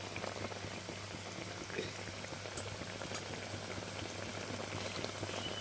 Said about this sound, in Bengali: মাছগুলোকে দিয়ে আমি 5 মিনিট ফুটিয়ে নামিয়ে নেব।